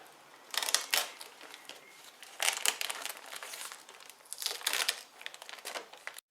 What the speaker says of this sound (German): Jetzt müsst ihr vorsichtig die Dämmfolie hier oben entnehmen, und zwar nur an dem Eck reicht